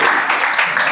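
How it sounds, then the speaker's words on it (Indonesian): A brief burst of classroom applause from students in a microteaching lesson, quick uneven claps close to the microphone lasting about a second. "kita berikan tepuk tangan ya untuk Willy"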